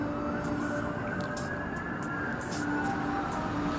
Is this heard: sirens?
yes